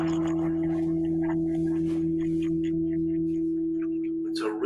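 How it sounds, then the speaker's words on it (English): Steady pure sine tones, the first five octaves of the tone of Mercury, hum together at a constant pitch, a lower one dropping away partway through, with faint rustling sounds around them. "the tones of Mercury, again, the first 5 octaves sound like this"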